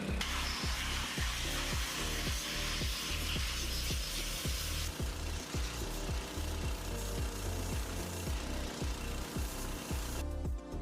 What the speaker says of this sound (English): I had to blast the rest off with a powerful pressure sprayer